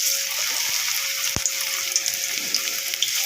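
Flattened rice pakoda batter drops into hot oil, a steady crackling sizzle with one sharp knock near the start, fairly close and with no voices.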